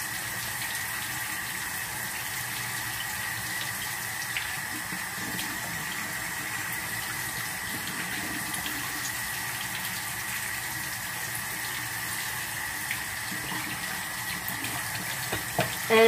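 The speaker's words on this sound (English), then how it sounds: "I'll rub it on it and then rinse them off and then put them on" Running tap water at a bathroom sink while dentures are rinsed, a steady even flow of water lasting the whole stretch at a moderate level, with a few small clicks and knocks near the end.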